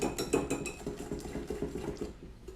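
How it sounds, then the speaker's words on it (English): A whisk beating an egg yolk, flour, sugar and salt mixture in a bowl for banana pudding, quick rhythmic clinks and scrapes of metal against the bowl, close and steady with no talk. "So now we're just gonna whisk this until it's nice and smooth."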